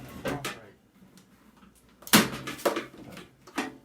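A microwave door being removed during scrapping gives several sharp clanks and knocks of metal and plastic, close and uneven, with quieter handling noise between them.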